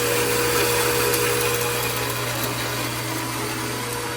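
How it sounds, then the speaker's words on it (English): A power tool cutting a stainless steel exhaust tube on a retro car turbo build, a loud steady grinding whir held throughout with no pauses. "Let's cut it. Stainless takes a while."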